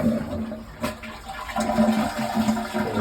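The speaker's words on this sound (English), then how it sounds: "So now I have the water off. I'll flush the toilet." A toilet flushes with a steady rush of draining water that swells midway and gurgles on for several seconds, heard close up in a bathroom during a toilet leak repair with the supply valve shut off.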